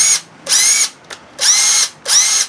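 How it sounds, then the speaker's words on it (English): A Makita BHP452 18V cordless hammer drill whirs in four short bursts of high-pitched motor whine, loud and close, with brief pauses between trigger pulls. "I'm going to hook up a battery, see if they even work."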